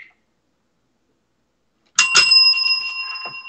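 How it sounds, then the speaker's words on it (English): A bell rings twice in quick succession to mark the end of a shift, two bright, sustained metallic tones that ring on and slowly decay after a stretch of silence. "Well, that was the double bell."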